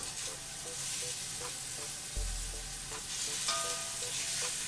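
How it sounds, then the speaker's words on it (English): Steady, crackling sizzle of short ribs searing fat side down in a hot pan, loud and close, with a low thump as something settles into the oil partway through. "Hear that sizzle?"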